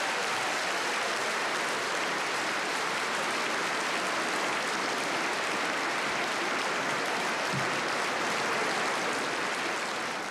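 Sustained, dense applause from a large audience follows a Prime Minister's public apology to Indigenous people, a steady even roar of clapping that fills the whole stretch without a break.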